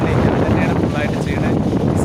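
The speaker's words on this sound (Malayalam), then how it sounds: "നല്ല കാറ്റുണ്ട് നല്ല കാറ്റുള്ള ഏരിയയിലാണ്" Strong wind buffets the microphone outdoors in a very windy spot, a loud, steady low rumble that fills the whole stretch.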